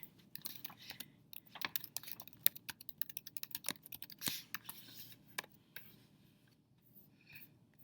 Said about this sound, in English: I guess I'll type it here.